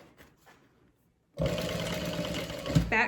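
A sewing machine runs steadily while stitching a handbag, a loud continuous mechanical whir that starts abruptly after a quiet moment and holds at an even level, with a brief rise near the end.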